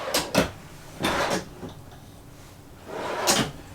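Several wooden drawers in a 2023 Forest River Cherokee Black Label travel trailer slide open and shut close by, three separate bursts of rumbling friction with quiet pauses between them.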